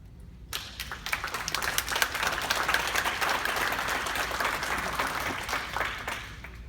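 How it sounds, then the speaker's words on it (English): Applause breaks out in an Alabama Judiciary Committee hearing for a Holt High School AP Government class, starting abruptly after a quiet moment and continuing as steady clapping from a modest group, with sharp individual claps standing out. "I think you may give y'all a round of applause"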